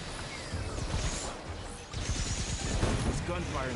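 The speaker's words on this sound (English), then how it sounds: "There's gunfire in the distance." Muffled bursts of gunfire pop in the background of the video game Synduality: Echo of Ada, irregular and somewhat distant, with low rumbling underneath.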